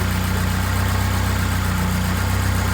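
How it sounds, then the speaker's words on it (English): A turbocharged BMW E36 with a swapped Honda K24 engine runs steadily after a head gasket repair, a loud, even idle-like drone with constant low hum and no talking. "See if the turbo's turboing."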